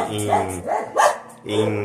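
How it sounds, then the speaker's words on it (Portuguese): A speaker's pet dogs barking indoors, several sharp yips and barks in quick succession, fairly close and loud. "Os meus cachorros estão latindo"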